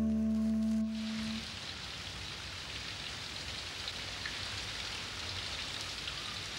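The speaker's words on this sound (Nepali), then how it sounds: "यस्ता साना झरीले पनि ठूलो राहत दिन्छ" A light tropical island rain shower falls as a steady, even hiss of drops on surfaces, after a brief low tonal hum fades out at the start.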